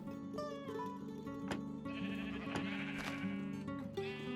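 Sheep bleating in the Minecraft video game, several overlapping bleats from a flock in a survival farm, steady and fairly close over a musical backdrop, with no talking.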